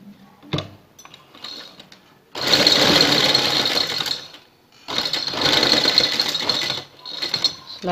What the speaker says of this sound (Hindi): सिलाई का थोड़ा ध्यान से लगाएं कि सिलाई पेपर पट्टी के ऊपर ना लगे